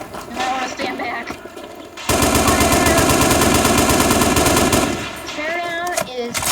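Sustained machine-gun fire in the video game Teardown, with fast rapid-fire shots rattling close and loud for several seconds, set among other game sounds before and after.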